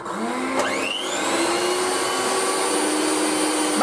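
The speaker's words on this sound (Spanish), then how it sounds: "Vamos a batir las yemas con el azúcar." An electric mixer whirs loudly and steadily as it beats egg yolks with sugar, spinning up in the first second before holding a constant high whine.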